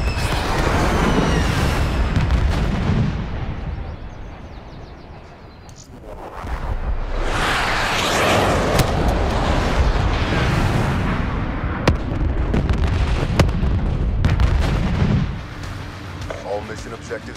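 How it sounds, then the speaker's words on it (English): Lightning strike explosions in Black Ops 3 Arena multiplayer, a run of loud booming blasts and sharp crackling bursts layered over continuous battlefield gunfire, with game voice lines sounding intermittently. "Friendly lightning strike inbound."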